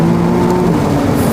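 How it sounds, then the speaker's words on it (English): A McLaren Artura Spider engine holds a high, steady rev with a strained, buzzing tone, loud and close, with no one speaking. "Downshifts are mean too. Oh! It sounds really well, the high revs."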